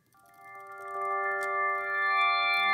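Digital rock organ chords played with the drawbars pulled out, a sustained bright tone that swells from quiet to full over a few seconds, its stacked harmonics ringing steadily, close and alone.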